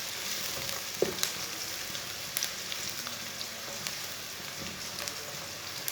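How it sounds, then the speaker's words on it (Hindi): Chopped white onion frying in a pan with whole cumin seeds, giving a steady hiss of sizzling oil broken by a few sharp clicks and knocks of stirring. "प्याज को ब्राउन कर लेंगे, हाफ ब्राउन करना है, फुल ब्राउन नहीं करना।"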